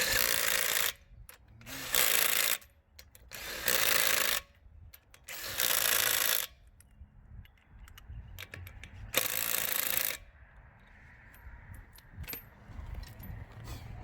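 Battery impact wrench tightening wheel lug nuts on a 2015 Chevrolet Silverado 1500 during a brake and rotor job, several loud whirring bursts of about a second each separated by pauses with light clinks of tools and parts.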